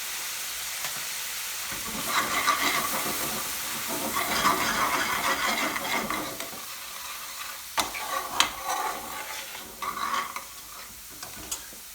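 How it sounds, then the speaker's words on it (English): Mixed curry powder, chilli, black pepper and salt fry in a pan for a garlic chicken Madras curry, a steady sizzle broken by scraping stirs that grow sharper and more frequent toward the end, close and without talk. "cook the spice really well"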